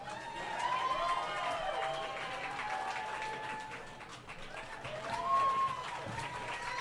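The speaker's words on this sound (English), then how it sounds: "Let's put a round of applause for Michelle Schatz." A crowd at a benefit concert at City Winery applauds and cheers, a moderate wash of clapping with whoops and shouted voices rising over it, swelling again near the end.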